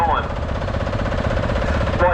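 A small single-cylinder diesel Lanz Bulldog tractor with electric start thumps away in a steady, rapid knocking rhythm, loud and close, as a voice talks briefly at the start and end.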